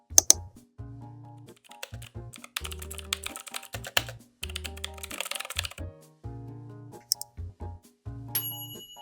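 Keys clack in quick, irregular bursts as values are typed into a computer calculator, with soft electronic tones and bell-like beeps chiming among the clicks, close and fairly quiet.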